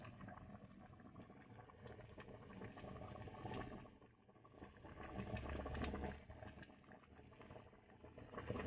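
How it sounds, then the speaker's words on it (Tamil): Stingray fish curry with spices bubbling at a steady boil in a pot, a close, continuous low gurgle and simmer that swells and dips slightly, with no voices over it. "குழம்பு கொதிச்சிட்டு இருக்கு."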